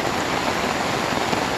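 Heavy rain falling in El Salvador, a dense, even roar of water close by, unbroken throughout the short stretch.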